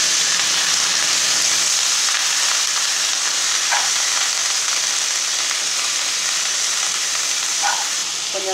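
Coriander leaves frying in a hot pan, giving a steady close sizzle and hiss throughout, with a couple of soft stirring scrapes.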